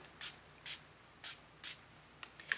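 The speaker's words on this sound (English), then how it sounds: "Next, I'm using my e.l.f. Mist and Set Spray." Four distinct short hissing sprays of an e.l.f. Mist and Set setting spray, evenly spaced and close, followed by a couple of faint clicks.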